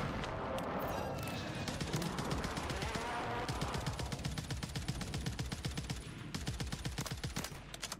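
Rapid automatic gunfire in Call of Duty Warzone on Rebirth Island, long sustained bursts of rattling shots, close and loud, with short gaps between strings.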